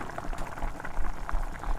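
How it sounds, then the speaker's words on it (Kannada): A pot of moong bean sambar bubbling at a steady boil, soft gurgling and popping close by, with no talking. "ಇವಾಗ ನೋಡಿ ಚೆನ್ನಾಗಿ ಕುದಿತಾ ಇದೆ"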